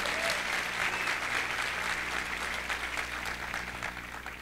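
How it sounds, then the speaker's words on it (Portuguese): An audience applauds at the opening ceremony of an international congress, a dense, steady wash of clapping from a large hall crowd that fades slightly toward the end, with no speech over it. "Uma salva de palmas para a Lúcia, gente."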